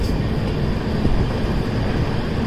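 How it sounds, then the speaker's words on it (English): A train rumbles steadily at Kannur railway station in Kerala, a loud, continuous close rolling roar with no break. "There's another train over there."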